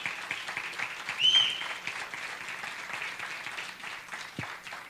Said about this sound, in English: Yep, you clap.